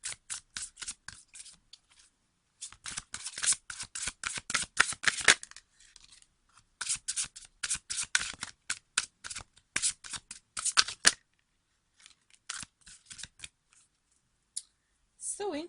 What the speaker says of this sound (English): We are gonna put those back and just do another shuffle